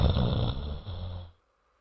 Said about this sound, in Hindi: आंगन में उसकी सास सुगंधा, ससुर भवेश और नंद टीना आराम से खर्राटे मारकर सो रहे थे।